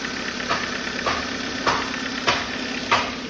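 A Kia Forte engine idles quietly and steadily, with a faint ticking and a few soft periodic knocks roughly every half second, close up and with no talk.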